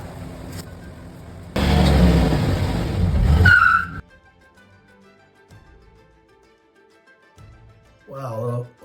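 A car drives over a holster in a durability test: a loud burst of engine and tire noise for about two seconds ends with a brief squeal, then a quiet stretch follows and a short voice comes in at the end.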